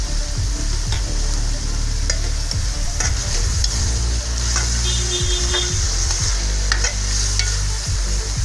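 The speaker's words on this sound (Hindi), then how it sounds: "अदरक पेस्ट डाल रही हूँ।" Ginger paste frying in a pan for ojri curry, a loud steady sizzle with intermittent scraping stirs of a spoon, close up and without talk.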